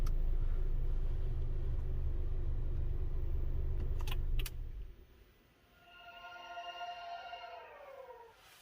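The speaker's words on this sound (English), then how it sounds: "So I want to show you when shutting it off." Acura TLX SH-AWD 2.0T with its engine shutting off: a steady low rumble that cuts out abruptly midway, followed by a quieter whirring whine that rises and falls as it spins down nearby, with no talking.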